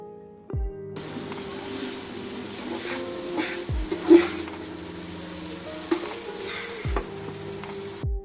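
Pasta with egg, magic masala spice and tomato sauce sizzles in a frying pan while being stirred, with scraping and clinking of the spoon over a constant fry, and a low steady hum underneath.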